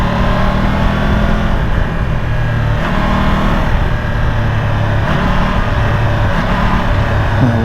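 A Triumph 1200 GT Pro motorcycle pulling in second gear with the throttle in sport mode, its engine a loud, steady, close drone throughout.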